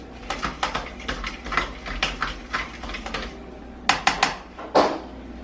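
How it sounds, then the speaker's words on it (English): Eggs being beaten in a bowl for calamari batter: quick, irregular clinking taps of utensil against the dish, in uneven bursts with a few sharper clacks near the end, close and moderately quiet. "Currently beating my eggs."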